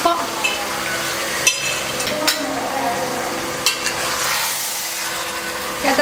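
Mutton being stirred and fried in a pot, with steady sizzling and scraping close by and occasional sharper knocks against the pot.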